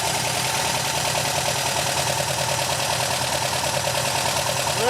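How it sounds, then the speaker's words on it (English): A Porsche 914 engine settles into a steady idle, a continuous mid-pitched mechanical hum with a faint rhythmic knock, loud and close with no one talking. "There we go, now we're back at idle."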